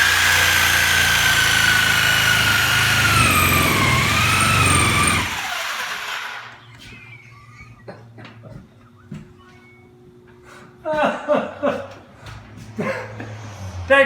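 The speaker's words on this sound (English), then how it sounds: "How to operate a Sawzall on a ceiling." A Sawzall reciprocating saw cuts into a ceiling with a loud, harsh, sustained whine and rattle lasting several seconds, then stops, leaving clicks and handling noise before a person starts talking.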